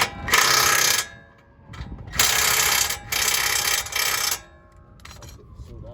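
A socket wrench ratcheting while working on the lower control arm of a 2010 Ford Explorer, several loud, close bursts of rapid clicking separated by short pauses.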